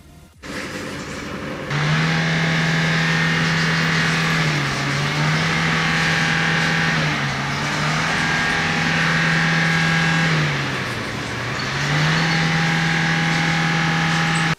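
A diesel Nissan Sunny with a black-smoke and power-loss fault cranks briefly, then settles into a loud, steady close-up idle with a couple of gentle rises and dips in engine speed, alone with no talk.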